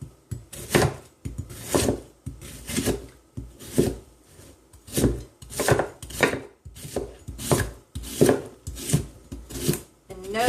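A knife cuts lengthwise through a crisp vegetable, about a dozen rhythmic crunching, rasping strokes close up, each ending in a light knock on the board, with no talk.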